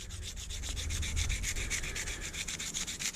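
Hand sanding of a knife handle, a continuous rhythmic rasp of abrasive strokes back and forth, close up and fairly quiet, with no talk.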